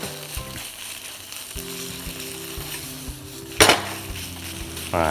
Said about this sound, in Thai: ผัดลงไปกับเครื่องแกงเลย